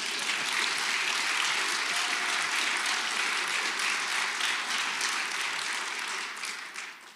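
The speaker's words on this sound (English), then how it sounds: "Can we just have one more round of applause for him?" Sustained audience applause at an academic award gala, dense and steady clapping from a large crowd filling the room, loud and even throughout before easing slightly at the very end.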